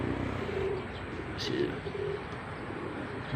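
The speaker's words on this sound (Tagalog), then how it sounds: "Ready na sila mga kalapatids." Pigeons cooing softly in a loft on a morning, low repeated coos with faint chirps over a steady ambient background, no talk.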